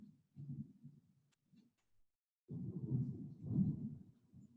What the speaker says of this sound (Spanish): Realmente, están escuchando los truenos